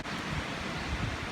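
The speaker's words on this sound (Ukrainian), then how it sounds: "Дуже сильний вітер зараз в лісі." Strong wind blowing through a forest, a steady, rushing broadband roar with no talking, brief and fairly faint.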